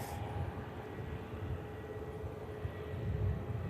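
A steady, broad rumble of an aircraft at Manchester Airport, distant and constant throughout, with a faint tonal whine riding over the low roar.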